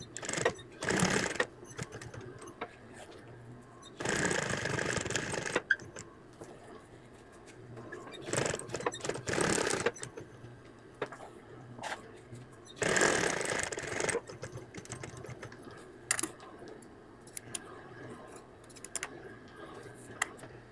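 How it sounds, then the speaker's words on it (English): Sewing machine running in several bursts as it edge stitches an appliqué onto a hand towel, with quiet pauses between the stitching runs and a faint ticking in the gaps. "I'm going to edge stitch as close as I can to those edges"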